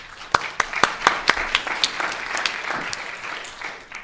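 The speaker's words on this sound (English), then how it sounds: "Give him a round of applause." An audience at an education conference breaks into applause, opening with a few sharp, distinct claps that quickly blend into a moderate, continuous patter before gradually thinning out.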